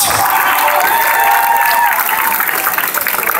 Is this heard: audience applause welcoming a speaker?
yes